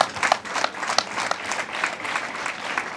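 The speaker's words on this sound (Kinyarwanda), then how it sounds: "bakire n'amashyi." A school gathering in Kigali applauds members of the parents' committees. Many hands clap briskly and steadily at close range for about three seconds.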